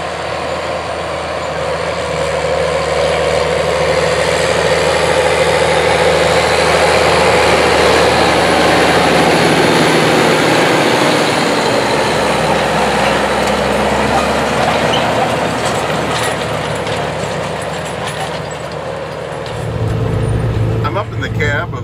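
A New Holland TG210 power-shift tractor with Super Steer rumbles steadily across a field at about 6 mph, its heavy engine drone loud and constant from inside the cab, shifting slightly near the end.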